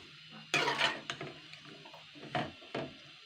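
A ladle stirs turmeric-and-salt water in a metal pot while kochu loti cooks: a few soft scraping and clinking strokes, close and moderately quiet, with no talk.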